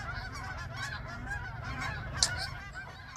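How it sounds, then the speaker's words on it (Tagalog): Wild geese honk continuously in flight outdoors, a dense chorus of overlapping calls at moderate distance with no talk. "Ang daming wild geese, lumilipad na."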